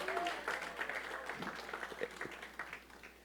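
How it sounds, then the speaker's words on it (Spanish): A church congregation claps in a quiet, scattered burst of applause that holds for a few seconds and tapers off, faint and somewhat distant. "dale un aplauso al Señor"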